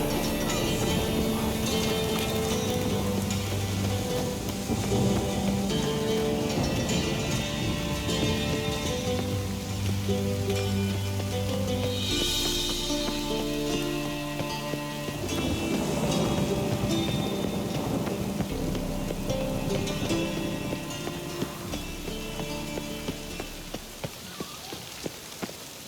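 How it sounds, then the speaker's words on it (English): Steady rain pours down in the video game The Witcher 3, a dense continuous patter layered under a game music score, with a brief louder gust of hiss midway. "I like rain."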